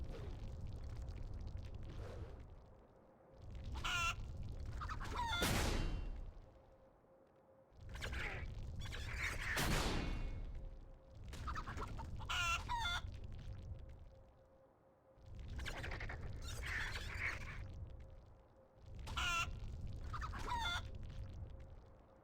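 A chicken clucks in a World of Warcraft pet battle, with repeated bursts of clucking and squawking alternating with brief quiet gaps over a low rumbling background, including a couple of sharper cries.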